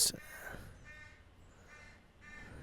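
Birds in a tree directly overhead call with faint, raspy crow-like caws in a few separate bursts after a brief sharp sound at the start.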